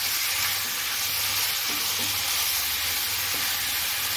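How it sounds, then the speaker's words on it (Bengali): Fried potatoes sautéing in a hot pan with oil, a steady broad sizzle with faint stirring clinks, close and continuous with no talking. "আর ভেজে রাখা আলুটাও দিয়ে দেব। দিয়ে আবার একটু সাঁতলিয়ে নেব।"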